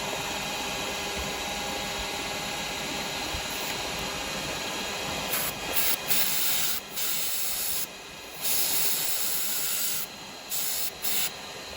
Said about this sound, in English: what we'll do, we'll give that a little spray.